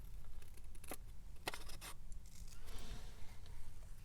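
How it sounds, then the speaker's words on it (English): Scissors fussy cutting around a paper jar shape for a collage page, with close, soft snipping and rustling of paper, a few distinct cuts among quieter scraping and handling noise. "Now I should fussy cut this whole jar"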